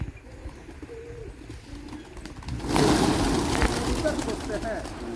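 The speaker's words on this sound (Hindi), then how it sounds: "कबूतर पोसते हैं।" Pigeons kept on a small Jharkhand farm alongside pigs and chickens coo in a flock, the calls rising louder midway through against steady background noise and voices.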